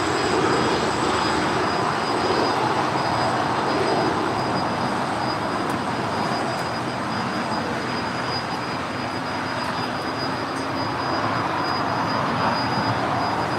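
A jet airliner rolls for takeoff on runway 25 right at LAX, a steady broadband engine roar holding loud and constant throughout with no break.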